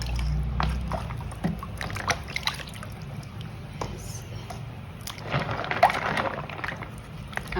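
Water trickling and sloshing as soaked clay diyas are lifted out of a container, with faint splashes and drips over a low background hum and occasional soft voices.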